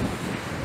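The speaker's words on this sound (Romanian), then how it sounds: "e super vânt afară" Strong wind blowing outdoors on the coast of Malta, a steady broadband roar buffeting the microphone for under a second, with no voices.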